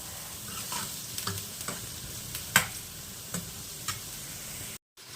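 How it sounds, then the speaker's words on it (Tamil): Chopped onion sautéing in a pan for a kuzhambu, with a steady low sizzle and a few sharp clicks and scrapes as it is stirred, close up and with no voices. "ஆனியன் நல்லா ரோஸ்ட் ஆகிற வரைக்கும் வதங்கணும்"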